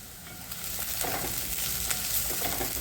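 Green chili sizzling in hot oil in a pan, a steady close frying hiss with brief crackling pops throughout.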